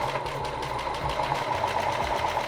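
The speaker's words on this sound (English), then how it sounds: "we're just gonna sew a straight stitch all the way down" A sewing machine runs a straight stitch on jeans, its needle hammering in a fast, even mechanical rhythm with brief pauses and restarts, close and clear.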